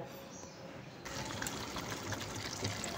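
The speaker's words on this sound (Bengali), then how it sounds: "এবারে দিয়ে দেব যে দুধটা আমি জাফরান দিয়ে রেখেছিলাম সেইটা" Saffron-infused milk poured into chicken chaap gravy, a soft liquid gush that starts about a second in and continues steadily, close but quiet.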